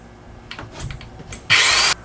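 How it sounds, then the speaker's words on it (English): A power drill bores through the steel frame of a camper addition: a single loud, harsh whirring burst of about half a second, after quieter clanks and handling noises. "through drilling."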